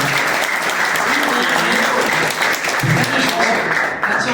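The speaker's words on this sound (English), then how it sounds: "Give him a round of applause." Steady applause from a convention panel audience at Frankencon 2022, a full room clapping continuously and fairly loudly throughout, with no voices over it.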